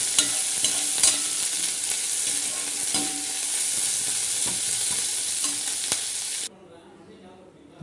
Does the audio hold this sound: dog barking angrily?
no